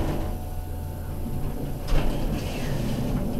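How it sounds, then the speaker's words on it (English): A Dover hydraulic elevator motor runs during a hotel ride, a steady loud hum and whir that holds throughout, with a brief mechanical shift partway through and no speech. "Listen to the motor."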